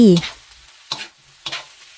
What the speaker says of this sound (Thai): เราจะใส่ข้าวที่เราคลุกกับไข่ไว้เมื่อครู่ลงไปผัด